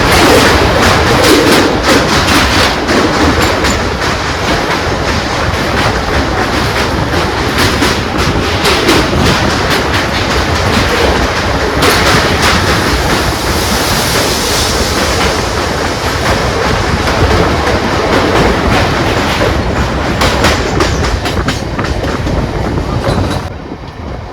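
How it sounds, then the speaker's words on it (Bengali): A passenger train runs on the rails between Sahibganj and Malda, heard from on board as a loud, continuous rumble with steady clickety-clack of the wheels and no talk. "আমাদের ট্রেন এসে পৌঁছালো নিউ ফারাক্কা জংশন"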